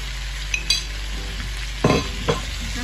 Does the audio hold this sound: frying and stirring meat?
yes